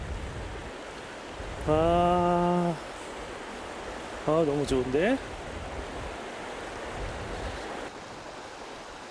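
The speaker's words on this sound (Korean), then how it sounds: "앞에 섬진강에서 흘러내리는 물소리가 참 좋다" The Seomjin River flowing, a continuous soft rushing wash of water that stays steady throughout, with two short bursts of voices speaking over it.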